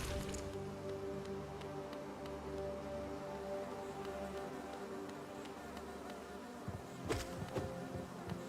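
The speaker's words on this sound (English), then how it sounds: "The bees are stronger than I gave them credit for." An insect drone of bees in the game Hollow Knight, low and continuous across the stretch, with a few sharp hits of game effects near the end and no talk.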